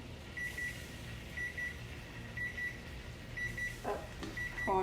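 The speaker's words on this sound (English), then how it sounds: "Oh, that's my timer." A kitchen timer beeps during meal prep, short repeated high electronic beeps in a spaced pattern over a low steady hum of appliances, faint and a little distant, with no talk.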